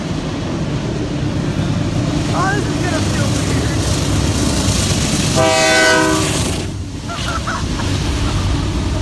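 Passing train with a heavy rolling rumble, and one sustained horn blast in the middle over wind and surf-like background noise.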